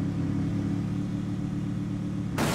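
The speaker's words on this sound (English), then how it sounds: "he hops in his car here, and he proceeds to drive to the right side over what looks like a ramp" In the video game Dead Matter, a car's engine drones steadily with a medium-pitched hum as it drives, loud and continuous, then cuts off abruptly near the end.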